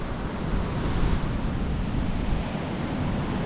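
Strong wind roars and buffets across an open beach while someone fishes, a dense steady rush blended with surf, with no voices.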